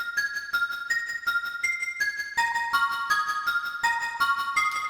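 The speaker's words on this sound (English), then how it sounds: "This is the glockenspiel that you hear throughout the entirety of the song in the background." Glockenspiel plays the melody of Schala's Theme from the SNES game Chrono Trigger, bright ringing struck notes in a steady sequence with sustained shimmering overtones, alone and up close.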